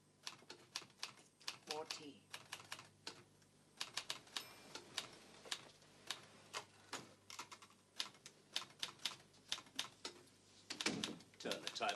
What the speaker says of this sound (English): Turn the typewriter off,